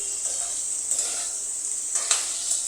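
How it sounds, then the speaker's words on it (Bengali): Potatoes fry in a pan that is uncovered for stirring. A steady bright sizzle carries on throughout, with a few brief scrapes of a spatula, close and without voices. "আবারও কিছুক্ষণ পর ঢাকনা তুলে আলুটাকে নেড়ে দিলাম।"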